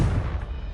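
A Confringo blasting spell from Hogwarts Legacy goes off as a loud, low, rumbling explosion that stays heavy and boomy through the whole short moment.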